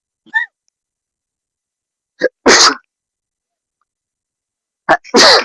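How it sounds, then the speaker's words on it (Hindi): A person sneezes twice, each loud, close sneeze preceded by a brief sharp intake of breath, with a short high vocal squeak at the start and silence between. "सॉरी, छींक आ गई।"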